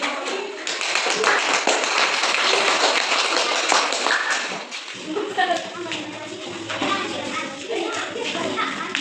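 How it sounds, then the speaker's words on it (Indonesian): A classroom of students claps for a student group, a loud rush of many small hands for several seconds that thins into scattered taps beneath children's chatter and voices. "Berikan tepuk tangan yang bagian dulu."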